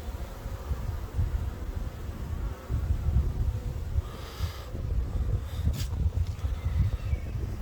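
Honeybees bearding outside their hive hang off each other and produce a low, continuous droning buzz nearby, with a few faint higher rustles over it.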